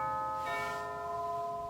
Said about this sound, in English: the doorbell went